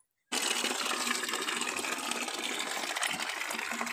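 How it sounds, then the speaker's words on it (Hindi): Water poured from a container over dried-out potted plants, a steady broadband splashing gush that runs continuously and close after a brief silent start, with no talk. "पहले सब पे पानी डाल देते हैं"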